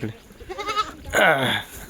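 Kathiawadi dairy goats on a goat farm, with a voice briefly at first and then one loud, close, wavering bleat standing out near the end.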